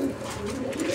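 Pigeons cooing at a pigeon market, a steady low murmur of several birds close by, continuous with faint background bustle.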